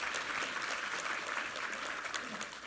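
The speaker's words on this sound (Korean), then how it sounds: "우리 하나님께 감사와 영광의 박수 올려드리겠습니다" A congregation applauds during a Sunday church service. Dense, steady clapping from a large crowd fills the room for the whole moment, with no voices over it.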